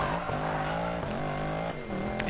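A Nissan Skyline GT-R R34 engine in the racing game Need for Speed Payback, a steady close engine drone holding pitch with slight shifts and a brief lift near the end, no voices.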